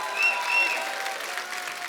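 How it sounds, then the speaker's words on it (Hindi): A studio audience applauds the film stars on a Hindi comedy talk show, a steady wash of clapping heard at moderate distance with faint tonal background sounds throughout. "एक बार जोरदार तालियां हमारे स्टार्स के लिए"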